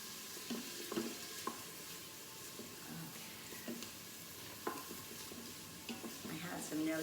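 One onion sautés in olive oil inside an Instant Pot, giving a quiet, steady sizzle with occasional soft scrapes and light knocks, fairly close and low in level.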